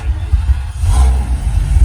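The engine of a U-Haul truck being converted into a tiny home revs up close by, a loud, steady, low rumble that rises slightly midway without letting up.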